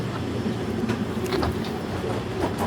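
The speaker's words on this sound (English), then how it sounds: "Taking the train to baggage claim. This train is departing." Steady low rumble of an airport train in motion, with faint rattles and squeaks rising over the continuous drone.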